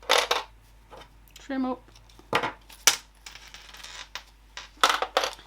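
Small sewing clips being unclipped from fabric, giving a few sharp light plastic clicks and snaps spread through the clip, close by, with a brief remark spoken between them.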